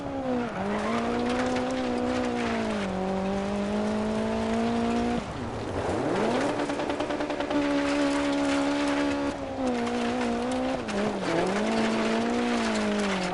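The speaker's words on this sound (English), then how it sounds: "It's a rally car game." Rally car from the Dirt 4 racing game driving hard, its engine droning loud and continuous with rising and falling revs through gear changes and corners, tire noise under it, no talking.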